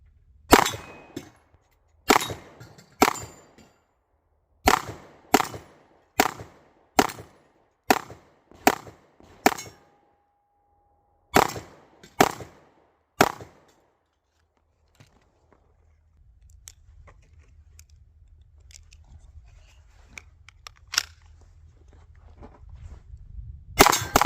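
A Taurus GX2 9mm subcompact pistol fires about fourteen sharp, close shots in a steady cadence with a brief pause partway through, followed by quieter low rumbling and handling noise.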